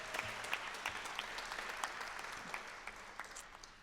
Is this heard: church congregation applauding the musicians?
yes